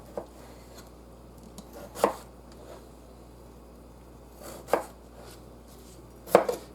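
A knife chops potatoes on a cutting board in a modest home kitchen, three or four sharp, spaced thuds against a quiet background.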